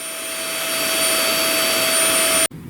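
An APOSEN cordless vacuum cleaner runs with a steady high-pitched whine and airy rush, close by, then cuts off abruptly near the end.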